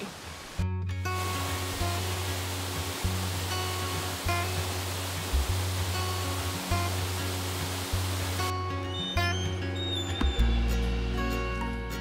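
Steady roar of Aysgarth Falls in the UK, continuous and full, with rushing water filling the whole clip and a low rumble underneath.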